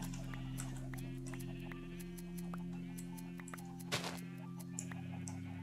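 Sheep bleating in the Minecraft video game while being sheared, several short bleats over a steady low hum and scattered clicks, faint and fairly quiet.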